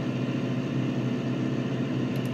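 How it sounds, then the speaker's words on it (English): Fendt tractor engine in the video game Farming Simulator 19, a steady, loud low drone with a constant tonal hum, running alone without pauses for a couple of seconds. "this tractor is a little bit faster than the old Fendt."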